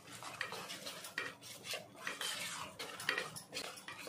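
Rava cake batter with baking powder and baking soda stirred with a spoon in a bowl, giving repeated scraping and clinking strokes in an uneven rhythm, close and fairly quiet.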